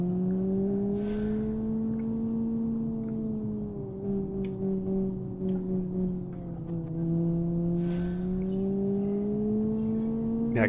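Engine held at wide open throttle in BeamNG.drive, a steady droning tone drifting slowly up and down in pitch, with brief hissing bursts of tyre or surface noise; loud and continuous with no voices.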